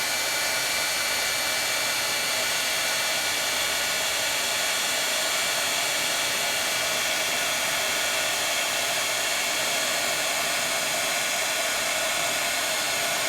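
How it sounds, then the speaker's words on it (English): A craft heat tool blows a constant, loud, even rush of hot air while melting two layers of embossing powder, steady from start to finish with no pauses. "I'm asking it to heat 2 layers of embossing powder"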